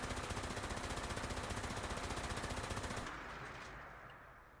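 A Gatling laser from Fallout 76 fires in a dense rapid stream of pulsing shots for about three seconds, loud and close, then cuts off and leaves a fading whine and hum.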